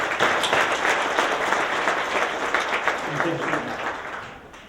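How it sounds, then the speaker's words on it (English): An audience at a home staging summit in Dallas, Texas breaks into full, dense applause that holds steady, then tapers off at the end, with voices mixed in. "Everybody, a round of applause for your version of success."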